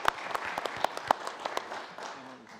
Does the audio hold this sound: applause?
yes